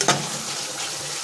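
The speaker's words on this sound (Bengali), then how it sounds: "এবার আমি দিয়ে দেবো এখানে লঙ্কাগুলি, কাঁচা লঙ্কাগুলি দিয়ে" Green chilies drop into hot oil in a frying pan with a quick burst of crackle, then a dense, steady sizzle continues close by.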